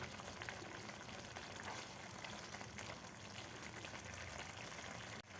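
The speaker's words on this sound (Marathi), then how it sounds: "आता आपल्याला 1 मिनिटभर आपल्याला हे अंडे घातल्यानंतर ही ग्रेव्ही शिजवून घ्यायची आहे, न झाकण ठेवताच." Egg masala gravy simmers uncovered in a pan, a steady, quiet bubbling and sizzling hiss that runs evenly throughout with no talking.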